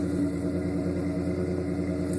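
A Ford Ranger 2.9 V6 rumbles at a steady idle through a Thrush welded muffler, a low, even exhaust drone that stays close and constant with no voices.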